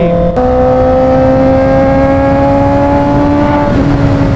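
Honda CBR650R sport-touring motorcycle engine cruising in sixth gear, a loud, steady droning hum that holds an even pitch, with a brief blip near the start and a slight dip toward the end.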